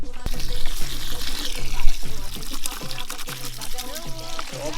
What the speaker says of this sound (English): So all we're going to do is cover this with water.